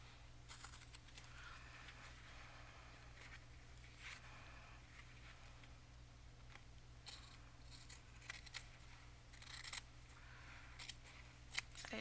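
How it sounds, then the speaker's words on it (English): Scissors trim around the edge of a faux leather mini journal, giving quiet, scattered snips and scrapes over a steady low background hum. "I'm just going to trim around the edge."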